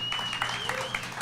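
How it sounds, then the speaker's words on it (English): An audience claps through a live comedy podcast reaction stream, a dense, even patter of hands that continues throughout, with a faint voice beneath it. "Not a bad round of applause there."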